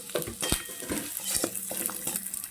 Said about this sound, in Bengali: মাছের মাথা ভাজার পরে যে তেলটা বেঁচে রয়েছে, তার মধ্যে যে চালগুলা ভেজে নিচ্ছি